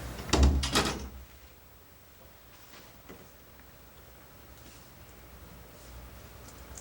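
A door swings shut at a press-conference room, making a loud closing thump with a brief rattle near the start, followed by a faint click and a quiet room.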